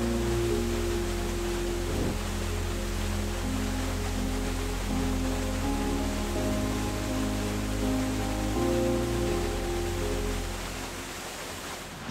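Rushing water from a waterfall at Dolgoch Falls in a wet, damp Snowdonia valley, a steady broadband roar filling the whole stretch with no speech over it, easing slightly toward the end.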